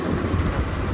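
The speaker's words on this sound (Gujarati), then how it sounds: "જોરદાર વરસાદ ચાલુ થઈ ગયો છે" Heavy rain pours down in a dense, continuous roar with a deep rumbling undertone, loud and close throughout with no gaps.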